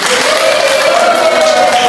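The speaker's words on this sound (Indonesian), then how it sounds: "Ya, tepuk tangan." Steady applause from a group fills the room, loud and continuous, with no pause or rise across the whole stretch.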